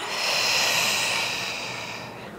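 Long, steady breath during a prenatal Pilates warm-up, a broad airy hiss that swells and slowly fades over a couple of seconds, close and alone with no talk.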